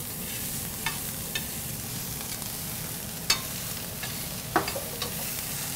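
Peppers sauté in a pan with turkey leftovers, giving a steady low sizzle broken by a few sharp utensil clinks and scrapes, with no one speaking.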